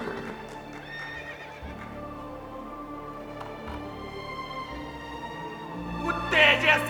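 Horses neigh and whinny over steady hoofbeats in a cavalry charge effect set in British colonial India, with dense layered clip-clop throughout and a loud shrill whinny rising near the end.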